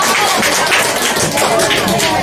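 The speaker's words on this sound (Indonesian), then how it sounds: "Sekali lagi tepuk tangan untuk" Dense, close applause from an audience at a primary school scripture-reading contest, with continuous hand-clapping for a short burst.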